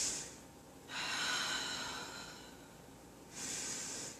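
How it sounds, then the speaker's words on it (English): A long, audible inhale through the nose during a yoga sun salutation, starting from mountain pose, followed by a softer hissing breath. Close, breathy and unaccompanied. "starting out in mountain position, you will breathe in."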